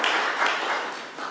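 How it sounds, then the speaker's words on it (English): Brief burst of audience applause at a council meeting, a dense patter of clapping that fades slightly toward the end. "So I think a round of applause for our award."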